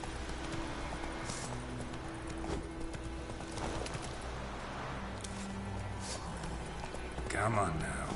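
Hooves of the horse Roach clip-clopping along in The Witcher 3: Wild Hunt, a quiet rhythmic trotting under game ambience and a voice talking.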